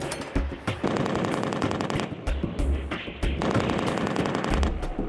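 M240B machine guns fired by Marine gunners during counter-drone training: loud, sustained bursts of rapid automatic fire with brief pauses between strings, close and dominant with no talking.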